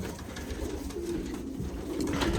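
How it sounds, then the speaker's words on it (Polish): Soft, low pigeon coos repeat in a gentle murmur, moderately close, over a faint background hum. "Super ptaszki. Tutaj się noszą mi gołąbki."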